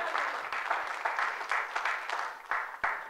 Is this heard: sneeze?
no